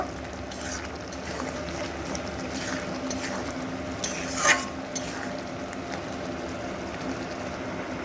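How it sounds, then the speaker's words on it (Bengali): Fried egg bhujia being stirred into a simmering mixed tarka curry, a low bubbling sizzle with scattered soft scraping strokes of a utensil against the pan and one brief louder clink partway through. "দিয়ে আবার নাড়াচাড়া করে একটু এর সঙ্গে মিশিয়ে দেব"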